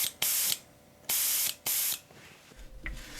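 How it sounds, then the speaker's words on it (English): Three short hissing bursts of Minwax polyacrylic sprayed from an air spray gun at about 35 psi onto a wooden bass lure, each about a third of a second long and spaced apart, with faint clicks between them. "I want to go ahead and spray it with some of this Minwax polyacrylic"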